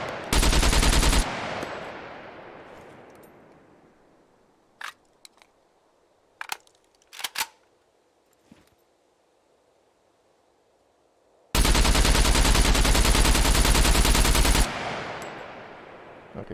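AK rifle with a bayonet fitted, fired in a zombie survival video game: a sustained loud burst of automatic fire opens, then a few scattered shots follow, and a second long full-auto burst comes near the end.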